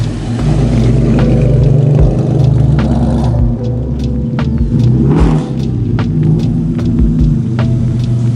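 A Mazda Miata with a weak battery, jump-started, cranks and catches, then its engine revs in loud uneven bursts and settles into a rough idle close by.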